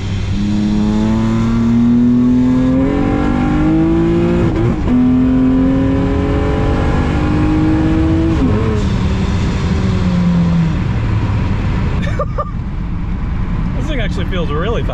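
Boosted Acura TL or Nissan 370Z engine accelerating loudly through gears, rising pitch sweeps repeating with brief shifts between pulls, steady and close throughout the run.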